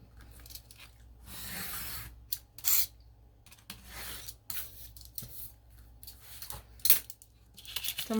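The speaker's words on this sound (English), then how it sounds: "Now, I want to cut this square here." Scissors cut a square out of paper, close by and fairly quiet, with a series of uneven snips, rustles and short crinkles separated by brief pauses.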